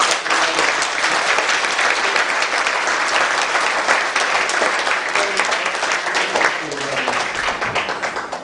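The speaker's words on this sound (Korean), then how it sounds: "우리 큰 박수를 합니다." A church congregation applauds at an ordination service, giving dense, loud, sustained clapping from a large crowd indoors that keeps a steady level throughout, with faint voices mixed in near the end.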